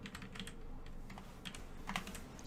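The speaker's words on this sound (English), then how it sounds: "Oh, this is a small keyboard." Rapid typing on a small computer keyboard, a steady run of light plastic key clicks with a few slightly louder taps, close and alone without talk.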